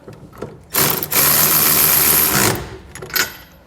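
Power tool spinning a 3/4 inch deep well socket to snug fasteners on Curt 5th wheel hitch adapter rails in a 2022 Ford F-250, one loud sustained whir of about two seconds up close, with brief mechanical clicks on either side.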